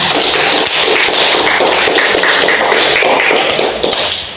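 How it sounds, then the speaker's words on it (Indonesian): Classroom applause for a student group: dense, steady clapping from many hands fills the whole stretch at close range, with no talking over it. "Berikan aplaus lagi sekali untuk kelompok 2."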